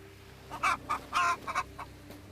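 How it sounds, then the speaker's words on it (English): A pheasant in the video game Everwind gives a chicken-like clucking, a short burst of several close, fairly loud clucks. "why does the pheasant have a chicken noise?"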